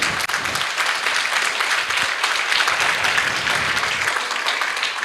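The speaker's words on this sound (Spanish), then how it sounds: "Denle un aplauso, sí." A church congregation breaks into continuous applause during a pastor's sermon, a dense, even wash of many hands clapping throughout.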